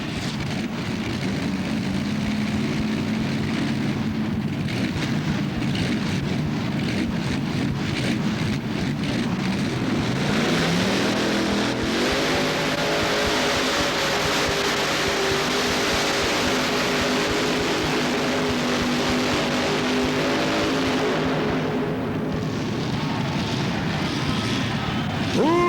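Pulling tractor engine roaring at an indoor tractor pull at the Cow Palace, a loud sustained roar that rises in pitch midway and holds, with crowd din and faint announcer talk beneath.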